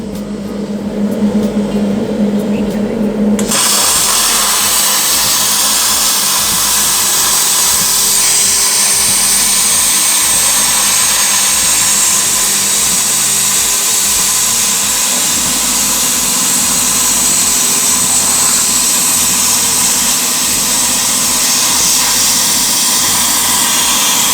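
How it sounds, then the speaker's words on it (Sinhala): A Riland CUT 100GT plasma cutter slices through a 10 mm metal plate. A low hum gives way to a loud, continuous roaring hiss that holds steady, close and unbroken for about twenty seconds with no talking. "බලන්න අපි දැන් 10 mm ආස්තන් ප්ලේට් කැල්ලක් කපලා බලමු."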